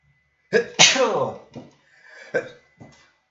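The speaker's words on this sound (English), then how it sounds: "I feel like I need to sneeze here" A single sharp, loud sneeze bursts out, followed by a few faint breathy sounds and murmurs.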